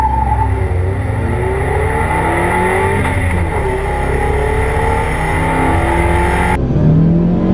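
A car launches hard from a standstill during a 0-60 mph acceleration test, its engine revving loudly and climbing in pitch as the tires spin, with a brief squealing skid near the end.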